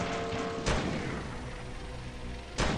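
Two heavy tank cannon shots in a tank video game, each a sudden broadband boom, the first near the start and the second at the end, over a steady loud mechanical game rumble.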